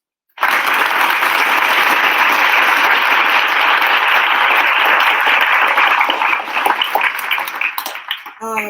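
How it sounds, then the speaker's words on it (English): A small group claps together in celebration, a loud dense burst of hand clapping that begins abruptly, holds steady for several seconds, then thins into a few scattered claps before stopping. "let's give ourselves a hand clap of praise"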